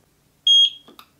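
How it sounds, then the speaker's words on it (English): Short high electronic beep from a Eufy Solo Indoor Cam C24 security camera during setup, a single clear tone lasting a fraction of a second, followed by a faint click, close and loud in a quiet room. "we heard a beep"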